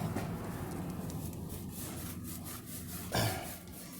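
Brillo pad scrubbing a rim on a 1968 Ford Mustang, a faint, repeated coarse rubbing and scraping with an irregular back-and-forth rhythm and a sharper scuff near the end.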